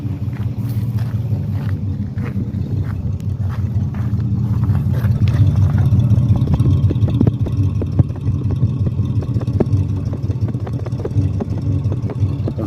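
A Dodge D200 pickup truck, just revived after sitting off the road for 25 years, idles with a steady rumbling engine note and fine ticking, swelling slightly midway then settling, close and fairly loud with no talking.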